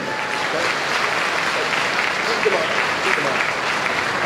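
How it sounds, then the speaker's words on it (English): A crowd applauds loudly and steadily at a gaming expo panel, dense clapping sustained throughout without pause. "can we have a huge round of applause for Karl and Graham?"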